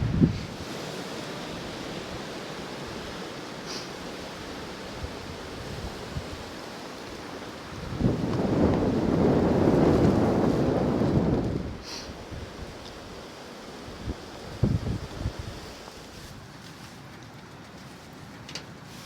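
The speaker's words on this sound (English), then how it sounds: "It's seriously windy here." Strong wind roaring outdoors at a snowy winter campsite in extreme cold, a steady gusty rush throughout that surges into a loud, sustained blast midway before easing back to a lower howl.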